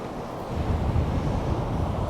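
Steady wind and surf on a Northumberland fishing beach at Cambois at night, a constant broadband roar with low buffeting gusts across the mic, no voices.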